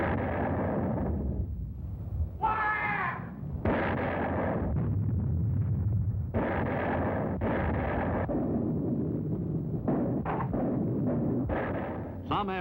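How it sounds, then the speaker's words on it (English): Howitzer artillery fire during the World War II battle for Bloody Nose Ridge on Peleliu, a rapid series of heavy booming blasts and bursts in irregular clusters, loud and close, with no speech. "The crescendo of the howitzers prefaced each new attack."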